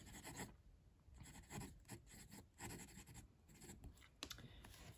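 Quiet, close scratching of a Muji fountain pen nib with Faber-Castell Graph Royal Blue ink across Clairefontaine paper, in uneven bursts of rubbing strokes with brief pauses between them.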